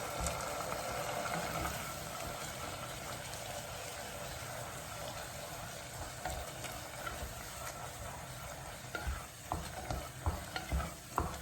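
A spoon stirs risotto with courgettes and butter in a hot pan, a steady sizzle and frying hiss under repeated scraping strokes that grow more distinct toward the end.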